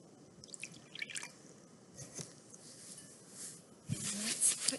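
Water is added to a small dish for a colour-mixing experiment, with soft, faint drips and wet squishing sounds, a little louder near the end.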